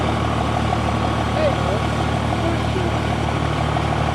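A modified diesel pickup truck in the unlimited class at an agricultural fair truck pull, reprogrammed for extra boost with a bigger turbo and more fuel, idles with a steady loud engine drone and constant low hum.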